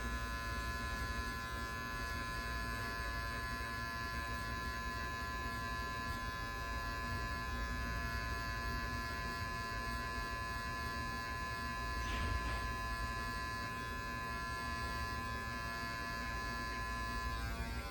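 Electric hair clippers buzz steadily through a home haircut of hair and beard, a constant close hum with a faint brief change partway through and no talk.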